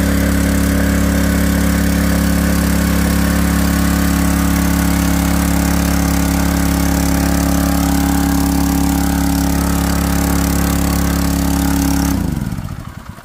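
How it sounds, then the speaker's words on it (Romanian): A motor-driven water pump runs steadily at an outdoor forest cabin, giving a loud, even engine hum with strong low tones for about twelve seconds before it cuts off abruptly. "Să pornești pompa, ud aici."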